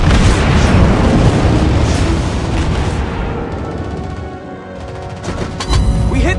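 Naval gunfire from a Seattle cruiser in World of Warships Blitz, a loud rumbling barrage of heavy booms that fades slowly, then a fresh burst of shots near the end.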